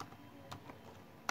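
A few faint, quick computer keyboard keystrokes click softly during a short typing burst on a desk, with no voices.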